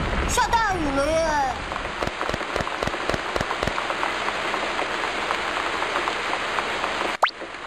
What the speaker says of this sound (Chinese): 哇，下大雨了耶！